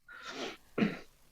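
A single sneeze during a spiritual service, two quick bursts a fraction of a second apart, the second sharper and louder, heard fairly close in a quiet room with no talking.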